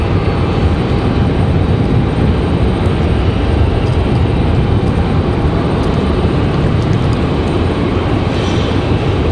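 A JetBlue airliner departing from Raleigh-Durham International, its jet engines producing a loud, steady broadband roar that holds evenly throughout with no break or fade.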